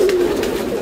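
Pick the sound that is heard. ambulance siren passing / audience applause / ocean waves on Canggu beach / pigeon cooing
pigeon cooing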